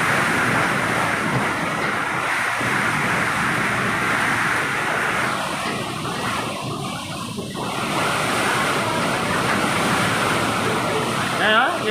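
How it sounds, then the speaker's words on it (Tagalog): Strong typhoon wind roars steadily across the whole stretch, a dense broadband rush with gusting surges like surf, outdoors in Isabela during a storm with no rain. "Kita nyo, hangin ang malakas sa kanya"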